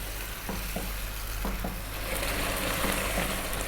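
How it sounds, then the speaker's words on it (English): Beef simmering in a pot for Arabic beef rice is stirred now and then, a steady bubbling sizzle carrying a few soft scraping strokes of the spoon, close and even with no talk. "give it a stir every now and then."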